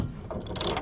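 Bolts on a VW Golf Mk6 loosened with a ratchet, giving a short burst of quick mechanical clicks, close and fairly loud, heard alone.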